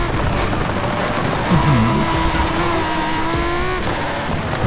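A Lamborghini Huracán Super Trofeo Evo race car in Forza Horizon 5, its engine loud and close, holding a steady roar and then rising in pitch as it revs.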